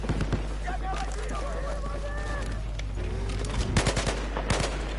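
Rapid gunfire bursts crackle in the video game Battlefield 4 under a steady background drone, with a person's voice talking over the shots.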